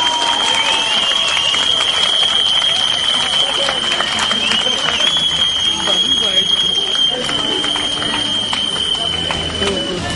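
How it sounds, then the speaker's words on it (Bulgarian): Crowd applause at an outdoor graduation parade in Pazardzhik greets the town's mayor, a steady dense wash of clapping lasting throughout, loud and close with crowd noise mixed in. "моля вашите аплодисменти за кмета на община Пазарджик, господин Турков"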